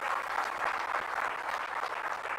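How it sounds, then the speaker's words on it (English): Audience applause at a signing ceremony for a mining and metallurgy investment agreement in Odisha, a steady sustained wash of many hands clapping with no voices over it. "I would request you to kindly give a round of applause to our partners today"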